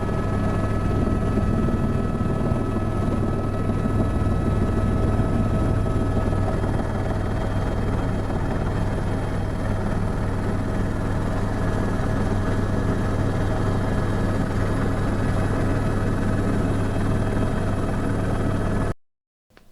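Steady, loud rotor and turbine drone from inside a helicopter flying over São Paulo, Brazil, a constant close hum and whir with no talk, ending with a sudden cutoff.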